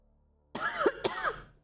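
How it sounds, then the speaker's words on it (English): Two harsh coughs from one person close up, the first starting about halfway through and the second following quickly, each a loud broadband burst against quiet. "Sorry for the continued coughing."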